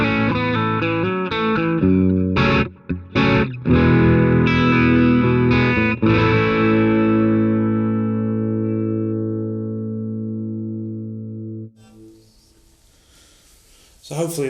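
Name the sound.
clean electric guitar recorded with NT1 and ribbon microphones together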